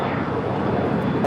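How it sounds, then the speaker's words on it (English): A Spirit Airlines A320neo taking off at Los Angeles airport, heard as a steady, loud, broadband jet roar that holds throughout the short stretch. "Next takeoff is Spirit Airlines flight 2687 heading to Kansas City in the A320 Neo."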